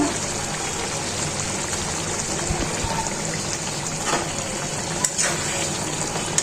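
Fish fries in a pan on a stove with a steady, close sizzle and a few faint clinks of stirring, and no talk over it.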